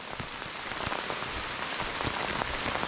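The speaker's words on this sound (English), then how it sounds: "It started raining harder." Steady rain pours on the Appalachian Trail near Bly Gap at the North Carolina–Georgia border, a dense close hiss with scattered sharper drops tapping surfaces throughout, and no voices.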